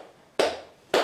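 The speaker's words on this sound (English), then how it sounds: "What are you clapping for?" Two sharp, close hand claps about half a second apart ring out in a quiet room at Blackpool Pleasure Beach.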